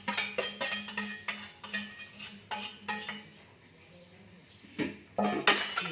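Stone pestle pounding and scraping boiled Dayak Ngaju sambal ingredients in a mortar, a run of sharp knocks and grinding strokes, then a short quieter pause before the pounding resumes, close and fairly soft.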